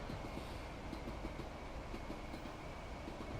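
A passenger train running in Train Sim World 5 on a route to Brighton, heard as a steady, fairly quiet broadband rumble with faint rhythmic wheel clicks, continuous and without voices.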